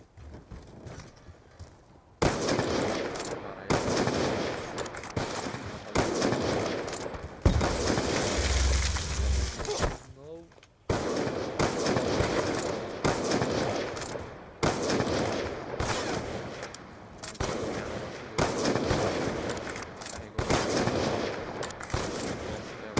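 Gunfire in Call of Duty Black Ops 2 during a Ballista sniper duel: loud, sharp shots and bursts repeat in quick succession, with brief gaps between volleys and no talking.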